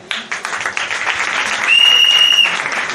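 Audience applause at a donation ceremony, dense steady clapping from a crowd that swells midway, with a faint high tone running through part of it.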